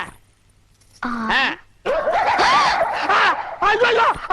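Dogs bark in a comedy scene set around a village tea shop, several loud yelping barks in bursts overlapping with excited voices talking nearby.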